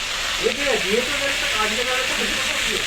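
Okra, potato and pointed gourd frying in a pan with onion, green chilli, salt and turmeric, giving a dense, continuous loud sizzle. Faint tonal sounds drift underneath.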